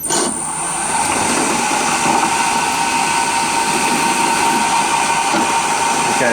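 A power drill with a twist bit bores through sheet metal backed by scrap wood, spinning up and then holding a loud, constant whirring whine close by.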